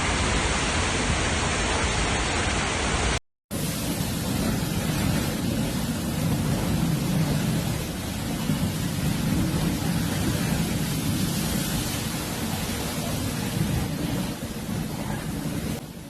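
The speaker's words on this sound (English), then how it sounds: "A strong storm with heavy rain hit Argentina, Rosario in the province of Santa Fe." Strong storm with heavy rain in Rosario, Santa Fe, Argentina: a dense, steady roar of downpour and wind fills the scene loudly and continuously, with a brief cut near the start.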